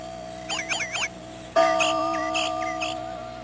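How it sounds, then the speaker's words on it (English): Birdsong rises near a hill called Tepeyac in December: a short warbling trill, a brief pause, then a louder run of chirping, whistled notes over a steady hum, with nobody speaking. "he heard the sounds of birds, strange for this late time of year"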